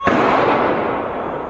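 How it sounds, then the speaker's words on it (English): A single sharp crack rings out on the streets of Paris during a night of chaos, followed by a loud, spreading echo that slowly fades, heard alone with no voices. "Chaos on the streets of Paris tonight, gunfire ringing out"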